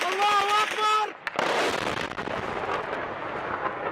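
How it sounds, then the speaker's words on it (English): Airstrikes hit a village in the Idlib countryside, a sudden loud blast following a tonal whine, then a long rumbling, crackling aftermath of debris and distant echoes. "2 schools hit by multiple airstrikes in Has, a village in Idlib countryside, rebel-held territory, just before noon yesterday."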